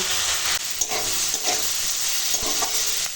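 Ash gourd being stirred in a hot pan, with a steady broadband sizzle and hiss of frying throughout and a few soft scraping strokes of the spatula, close and alone.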